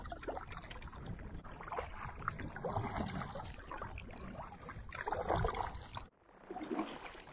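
Canoe paddle strokes pull through choppy water on a snowy lake while a strong headwind rushes steadily past, splashing and gurgling close by, then easing near the end.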